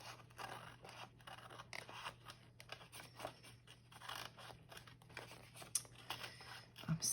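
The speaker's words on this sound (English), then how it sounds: "I'm so bad with scissors." Scissors cut and trim cardboard packaging scraps up close, a steady run of crisp snips, scrapes and crinkles with no talking.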